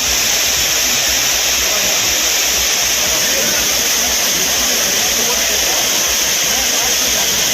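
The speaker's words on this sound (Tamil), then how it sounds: "சீசன் முடிந்த பின்பும் குற்றால அருவிகளில் சீரான நீர்வரத்து" The Courtallam waterfalls pour with a steady flow, giving a continuous broad rushing roar that holds steady throughout, with a voice speaking over it.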